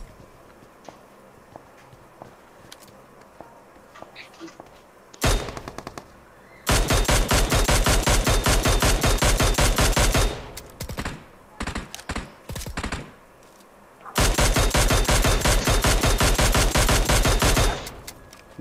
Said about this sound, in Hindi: पीछे तो गंदी फायरिंग चल रही है यार